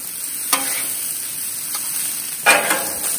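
Fried rice sizzles and crisps on a Blackstone griddle set to high heat, giving a steady faint hiss with a few brief scraping stir sounds at the start and near the end.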